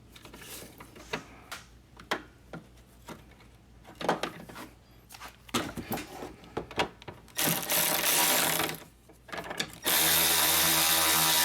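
A power tool reinstalls the horn on a Chrysler Town & Country, with short bursts of whirring and ratcheting and a steady run near the end, all fairly close.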